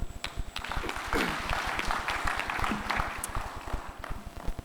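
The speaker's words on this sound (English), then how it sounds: "a warm round of applause for our panelists for a job well done" Sustained applause from an audience at a stakeholder forum, a dense, steady clatter of many hands clapping at moderate volume with no let-up across the whole stretch.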